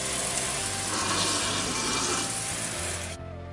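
Tap water runs steadily to rinse dye out of a wig, a close, continuous rushing hiss that drops off sharply near the end.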